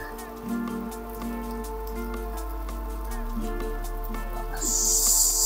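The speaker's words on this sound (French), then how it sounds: "Allez, là, ça pleut vraiment." Heavy rain drums steadily on the roof of a converted bus parked on a muddy track, a dense continuous patter with a low hum underneath and a brief brighter hiss near the end.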